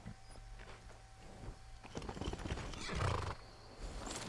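A horse in the Skyrim video game clip-clops at a walking pace with a whinny partway through, faint and quiet, with a low steady background hum.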